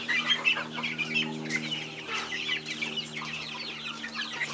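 Chickens, hens and large chicks on a small farm, cluck and chirp in overlapping bursts throughout, a close, busy flock sound with no speech.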